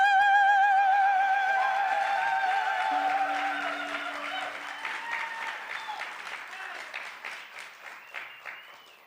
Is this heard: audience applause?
yes